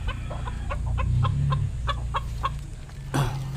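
A red junglefowl (labuyo) gives a series of soft, rhythmic clucks close by in a backyard pen, with a sharper call near the end.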